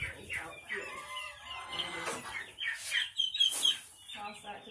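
Chickens cluck and chirp nearby in a busy, overlapping chorus, with some quiet talking mixed underneath.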